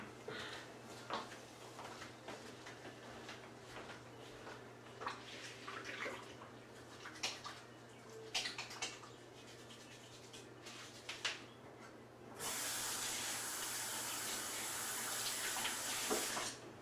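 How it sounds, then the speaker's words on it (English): A tap runs for someone washing their hands, with clatter and bumps at first and then a steady, fairly loud rush of water that keeps going to the end. "I'll go wash my hands real quick"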